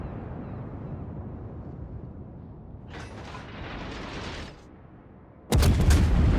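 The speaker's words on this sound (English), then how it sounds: "He is shooting from behind the island." Naval gunfire in the World of Warships game, a ship firing from behind an island: a mechanical clank and rumble give way to a sharp, loud cannon blast near the end, with no talking.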